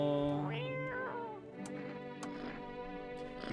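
A cat in the video game No, I'm Not a Human meows twice, drawn out and close, followed by soft ticking and quiet room tone.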